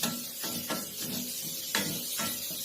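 Onions softening in a frying pan, with a steady close sizzle and hiss broken by a few sharper scraping stirs.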